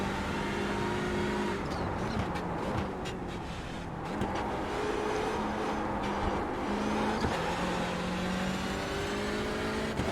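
A Porsche GT3 race car engine drones continuously on the Nürburgring in a racing game, loud and close, with pitch rising and falling through gear changes and no talk over it.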